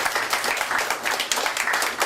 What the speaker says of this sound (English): I think deserves a round of applause.